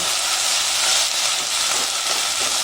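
A pot of vegan bell pepper jambalaya simmers on the stove, giving off a steady, close hiss of bubbling and steam with no pauses and no voices.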